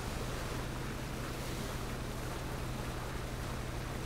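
Boat engine droning steadily on open ocean water in PUBG, a loud, constant roar blended with wind and wave wash, with no pauses throughout.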